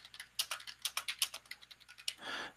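Someone types on a computer keyboard: about a dozen quick, soft key clicks in an uneven rhythm, ending in a short breathy rustle, quiet and close with no voices.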